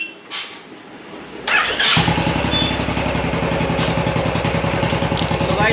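A Royal Enfield BS6 motorcycle with a battery charging problem cranks with a brief whirr and then catches, settling into a steady, close, loud single-cylinder idle thump.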